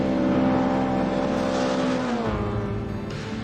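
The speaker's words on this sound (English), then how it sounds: "His Opel Ascona starts up once again" An Opel Ascona rally car's engine revs loudly and close by, a steady rising drone that drops in pitch partway through before carrying on.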